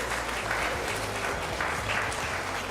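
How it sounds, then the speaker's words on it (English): An audience at a festival launch event in Trinidad and Tobago applauds, sustained even clapping from a roomful of people, moderately loud and continuous. "So give yourselves a round of applause."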